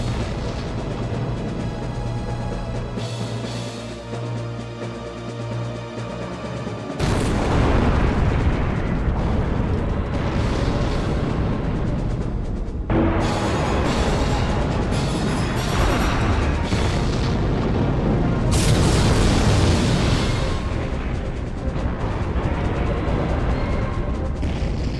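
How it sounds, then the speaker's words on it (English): Satellite cannon strike in the Robot Alchemic Drive video game: loud, sustained booming explosions with dense crashing rumble that surges in waves, swelling sharply after a quieter opening stretch and staying heavy to the end, with no talking. "I guess the satellite cannon's coming."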